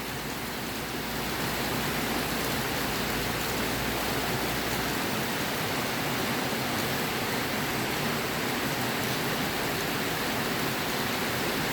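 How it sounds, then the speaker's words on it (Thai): Steady rain falling outdoors among trees after a hot day, a dense, even hiss that runs unbroken and fairly loud throughout, with no voices. "ฝนตก"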